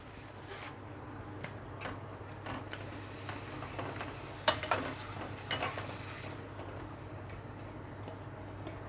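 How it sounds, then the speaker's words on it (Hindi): Papad fries in hot oil with a faint, soft sizzle, broken by a few light clicks and taps as it is turned over in the pan. "इस तरह से तलते हैं और इसको और पलट लेते हैं"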